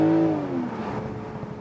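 A BMW Z4 M40i pulls hard in sport shifting mode, its engine note rising then settling into a steady mid-pitched drone, heard from inside the car.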